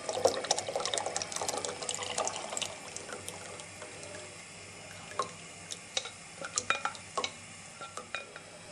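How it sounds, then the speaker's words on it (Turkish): A spoon stirs a yogurt and flour mixture into a pot of soup, with faint liquid swishing and light clinks of utensil against the pot, quiet and close, growing more clinky toward the end. "Şöyle bir karıştırıyoruz ki kesilmesin. Ve yavaş yavaş çorbaya ilave ediyoruz."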